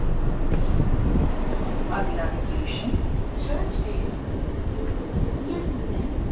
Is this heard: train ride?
yes